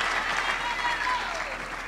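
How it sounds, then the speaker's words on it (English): Audience applause at a university graduation ceremony on the Vaal University of Technology main campus, a dense, steady burst of clapping from a large hall crowd. "Give him a big round of applause."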